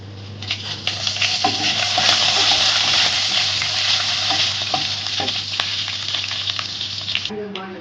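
Cut dried red chillies hit hot oil for a Chettinad chicken gravy, breaking into a loud, dense crackling sizzle that swells and holds close by, then cuts off abruptly near the end.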